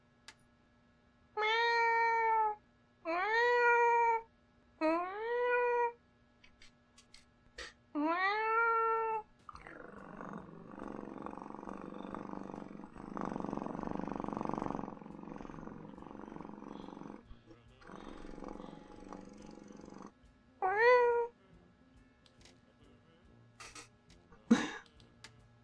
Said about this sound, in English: I can do some cat noises.